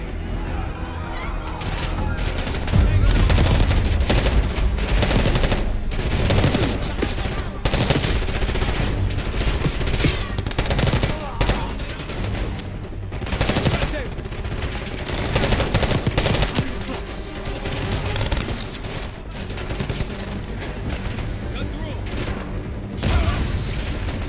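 Gunfire fills a Call of Duty Black Ops 6 battle: dense, rapid volleys of shots and booming impacts continue almost without pause for over twenty seconds, with occasional voices beneath.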